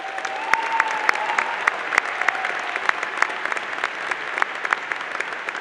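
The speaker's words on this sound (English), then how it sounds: "We would like to once more applaud your commitment and this achievement also for you as well." University commencement audience applauds graduates in a large hall, a steady, dense wash of clapping with sharp individual claps standing out, continuous for several seconds with no talking.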